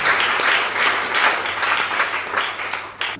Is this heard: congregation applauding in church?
yes